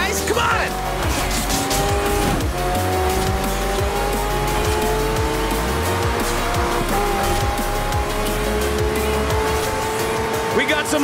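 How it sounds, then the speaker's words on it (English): Racing cars and trucks roar through a street race in Forza Horizon 4, engines droning and revving with tire squeal and skidding, loud and continuous, joined by a crowd and a faint voice. "We got some awesome racing trucks out there, too!"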